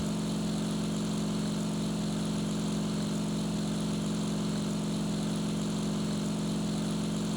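A Ki-84 fighter's piston engine drones steadily in flight in the IL-2 Sturmovik game, a constant loud hum with no change in pitch and no voices.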